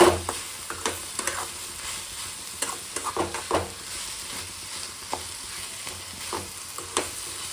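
Tomatoes with salt fry in a pan under a steady moderate sizzle, broken by repeated scraping stirs and clanks of a utensil.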